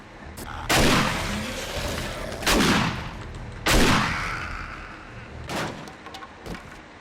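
Shotgun blasts in the video game 7 Days to Die: three loud booming shots spaced a second or two apart, then two fainter shots, each trailing into a rumbling decay.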